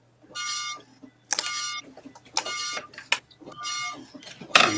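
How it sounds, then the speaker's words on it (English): Old printer running during work on vintage Macintosh equipment, giving repeated bursts of mechanical printing noise in a stop-start rhythm, close and fairly loud, with voices talking between passes. "It's the printer saying, Joe."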